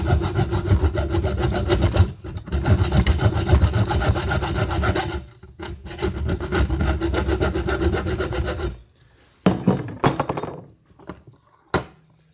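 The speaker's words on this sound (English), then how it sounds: "Next, you want to cut halfway through the tube until you cut a section off." A saw cutting through a tube to make arrowheads: rapid, rasping back-and-forth strokes in long close runs, broken by short pauses, then a few scattered final strokes as the piece comes free.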